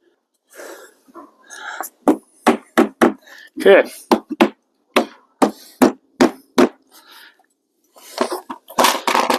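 A hammer strikes a wooden window buck frame in a string of sharp, close blows at an uneven pace, with a few words spoken between them.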